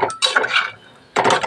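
A spoon scraping and clinking as spiced food is stirred in a pot, two close bursts of metallic scraping with a short quiet gap between them.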